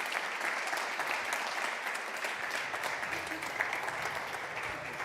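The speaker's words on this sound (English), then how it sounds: "Can you give her a round of applause as she welcomes the panel?" Audience applause welcoming a panel moderator at a community gathering: steady, dense clapping from a crowd that fills the whole stretch at an even level with no voices on top.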